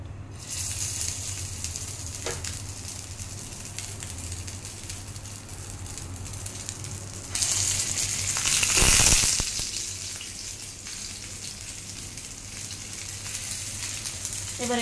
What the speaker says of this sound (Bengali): এবার মিনওয়াইল আমার তেলটাও গরম হয়ে গেছে, এবার আমি একে একে আস্তে আস্তে ছেড়ে দেবো।